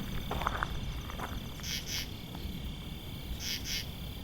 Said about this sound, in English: Not a grasshopper, is my guess. Maybe a katydid of some kind.